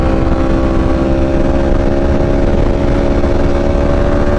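A Yamaha R1 superbike engine screams at full throttle during a highway drag race against a McLaren 720S, a loud, steady high-revving drone with a sustained tonal whine and no pauses.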